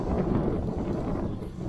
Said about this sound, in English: I don't know if you can hear me because it's quite windy over here.